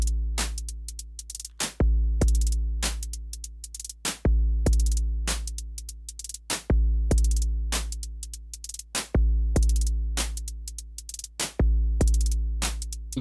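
Synthesized kick drums from a Korg Volca Drum run in a looping pattern, booming low hits mixed with crisp clicky percussion in a steady repeating groove, with no voices over it.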